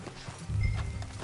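Horses in Red Dead Redemption 2 clip-clop on the ground, the hoof beats growing heavier and closer partway through, with a whinny mixed into the steady trotting.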